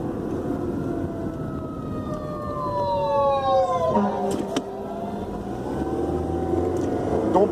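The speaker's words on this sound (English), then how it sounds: "It's like we got the old fire trucks coming after us." Fire truck sirens wail and sweep downward as the trucks pass on the road, heard from inside a moving car over steady engine and road rumble, with a couple of sharp bumps mid-pass.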